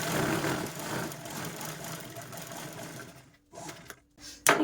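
A sewing machine runs steadily as it stitches a zip onto a bag, a close, continuous mechanical whir that stops near the end and gives way to a few short bursts of motor sound.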